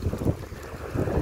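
Gusty wind blows ahead of rain, buffeting the microphone in a rough, roaring rush that swells and eases over a second or so, with no talk.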